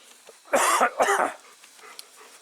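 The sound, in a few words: dogs barking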